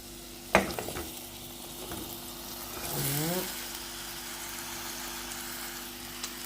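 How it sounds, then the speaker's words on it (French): A sharp clatter as chopped blackberries drop into a saucepan, followed by a quiet, steady sizzle and bubbling with a brief stirring scrape, a low hum underneath. "J'ai coupé mes mûres, je les mets dans la casserole."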